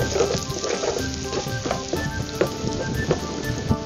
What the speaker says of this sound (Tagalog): Add the garlic. Saute this, guys, on a high heat, okay?